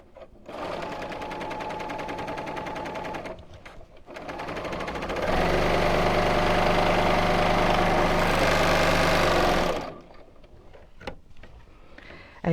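A Bernina L 850 overlocker runs steadily in a loud continuous mechanical whir, starting, pausing briefly, then speeding up to a higher, denser buzz before stopping, heard up close and alone.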